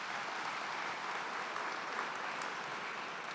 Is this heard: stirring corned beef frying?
no